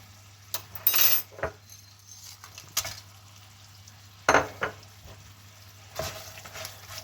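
Pork gravy with melting butter and a pinch of nutmeg stirred in a pan, a spoon scraping and clinking in intermittent strokes over a soft, quiet sizzle and a low steady hum.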